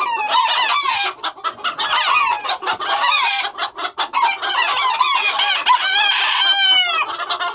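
Guinea fowl calling loudly from inside a crate, a dense, near chorus of harsh, rhythmic cackling and screeching calls that continues without pause.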